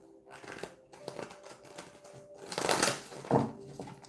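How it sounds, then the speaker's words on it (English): A large, stiff deck of tarot cards being shuffled by hand in a quiet room, short papery riffles and crinkly bursts coming in uneven clusters, with a louder flurry near the end. "This is a really hard deck to shuffle because there's so many cards."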